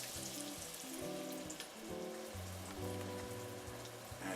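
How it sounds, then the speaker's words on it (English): Garlic sautéing lightly in olive oil in a pan, a steady crackling sizzle that holds at an even level throughout with no one talking. "And just lightly saute the garlic"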